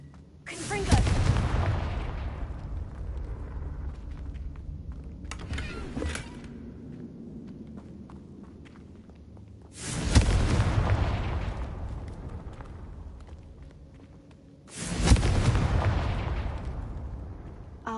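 Confringo fire-spell explosions in the video game Hogwarts Legacy: three loud booming blasts with bright crackling attacks, spaced several seconds apart, each decaying into a rumbling tail over quieter game ambience.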